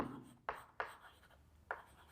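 Handwriting during a Class 10 chemistry lesson on acids, bases and salts: a few short, scratchy strokes spaced unevenly, close and quiet, with no talk.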